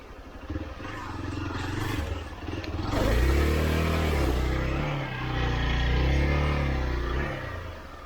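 A Hero Xpulse 200 motorcycle engine revs hard on an off-road trail, rising and falling in loud, close surges with rattling clatter from the bike.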